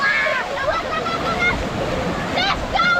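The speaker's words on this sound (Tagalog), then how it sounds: "Lakas yung alon guys." Strong ocean waves at Dinadiawan, Aurora Province, Philippines, wash and rush in a loud, continuous roar, with voices talking and calling out nearby over the surf.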